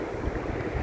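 Waves break on the Cornish coast with a steady low rumble and wash of surf, wind buffeting the microphone throughout the short stretch.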